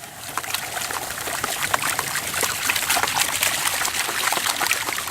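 Water sloshes and trickles steadily in a brand-new gold pan during outdoor panning, a continuous close splashing wash with no voices.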